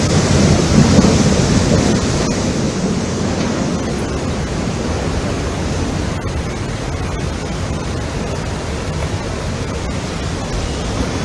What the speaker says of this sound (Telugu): దేశవ్యాప్తంగా కూడా వర్షాలు దంచుకొడుతున్నాయి.